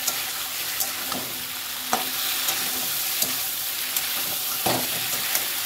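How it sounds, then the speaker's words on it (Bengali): Fried vegetables are tipped into a pan and stirred for a home-style vegetarian lunch, giving loud, close sizzling with regular scraping strokes of the spoon; no voices. "এবার আমি যে সবজিগুলো ভেজে রেখেছিলাম সেই সবজিগুলো সব একসাথে দিয়ে দেবো। দিয়ে ভালো করে নেড়ে চেড়ে নেব।"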